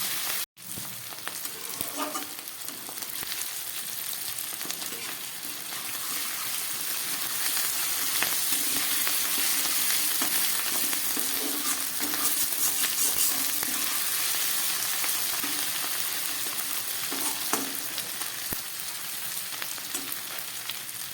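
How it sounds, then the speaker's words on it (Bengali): Chicken masala for a spicy chicken dish frying gently in a pan over low gas, a steady close sizzle with occasional stirring scrapes and pops throughout, no voices. "ভালো করে আমি মশলাটাকে কষিয়ে নিচ্ছি গ্যাস কম করে"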